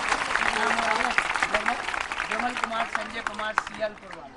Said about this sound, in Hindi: जरा दोनों हाथ ऊपर उठा करके तालियां तो बजाओ इनके भावनाओं के लिए